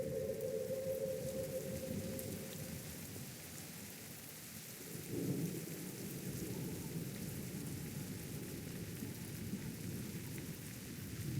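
Heavy rainstorm with rolling thunder, cast as a power in the video game Throne and Liberty: steady dense rain hiss throughout, with low thunder rumbles near the start and a swell around five seconds, no voices.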